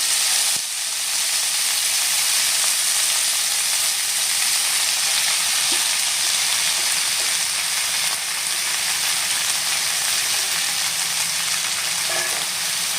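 Freshly washed and chopped pea greens fry in a pan with a loud, continuous sizzling hiss and occasional faint stirring clinks, steady and close throughout with no voices.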